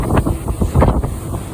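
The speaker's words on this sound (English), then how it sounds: "It's blowing an absolute gale" A strong gale on the Cairngorm summit batters the microphone with a loud, continuous roar that surges in uneven gusts over a short stretch, with no voices.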